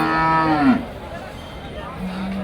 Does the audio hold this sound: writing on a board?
no